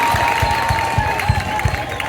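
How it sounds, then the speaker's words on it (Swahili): Audience clapping at a Christmas gathering after children's recitations, a brief burst of applause with rhythmic claps standing out, fairly loud and close. "Makofi mengi."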